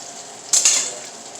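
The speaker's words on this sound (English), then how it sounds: "You can see it's starting to sizzle there" Tortilla española mixture sizzles in a hot pan with a steady, soft high hiss, and one brief clatter of a utensil against the pan partway through.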